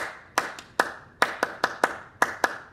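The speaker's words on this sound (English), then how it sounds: "Let's just clap it together 4 times." Hands clap a simple rhythm together in a small room: sharp, close claps in an uneven repeating pattern, about ten in under three seconds, loud against a quiet background.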